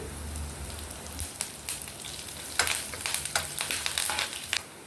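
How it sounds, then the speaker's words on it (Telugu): Tempering of spices and curry leaves frying in oil for dadhojanam, a continuous crackling sizzle like rain on a surface, with sharper bursts and spatters growing busier toward the end, no voices. "మనం పోపు ఎంత బాగా వేయించుకుంటే దద్దోజనం అంత రుచిగా ఉంటుంది"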